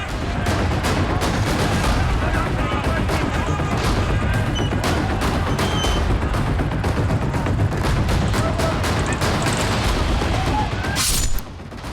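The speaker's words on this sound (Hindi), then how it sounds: "दो गुटों के बीच घंटों तक चली गोलीबारी" Sustained gunfire between two armed groups in Khyber Pakhtunkhwa, Pakistan, with dense rapid shots and heavy booms cracking continuously throughout, loud and close, over a constant roar of reverberation.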